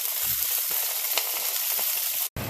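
Italian sausage browning in a hot pan, a steady, bright sizzle and crackle of frying fat that continues unbroken, close and fairly loud, with a brief cutout near the end.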